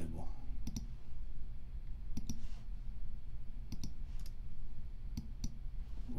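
A computer mouse clicks sharply in quick pairs and single taps, several times over a few seconds, close and crisp against a low background hum.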